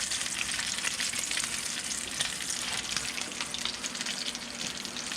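Tacos frying in hot oil in a pan, a dense, even crackling sizzle that holds steady and close throughout.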